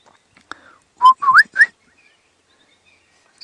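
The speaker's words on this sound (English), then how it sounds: "in the background you can hear one of my favourite bird calls," Southern boubou birds call in the bush at sunrise in an African wildlife reserve: a few clear, fluting whistled notes in a quick run, fairly close and loud over quiet surroundings.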